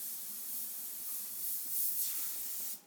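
An airbrush sprays paint onto a motorcycle fuel tank, adding highlights to custom dragon artwork: a steady, soft, continuous hiss of compressed air that holds evenly for nearly three seconds before cutting off.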